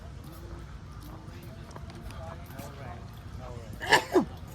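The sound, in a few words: sneeze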